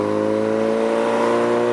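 A turbocharged Honda Civic's engine catching after a clutch-pop restart while rolling on the highway, a steady droning hum with a whirring tone, loud and close, with no talk.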